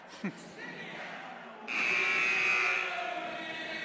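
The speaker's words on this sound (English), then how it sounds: "That buzzer means we're getting closer to coming back to action here." A loud, sustained electronic buzzer at a women's college basketball game blares for about two seconds, then fades into steady crowd noise in a large indoor arena.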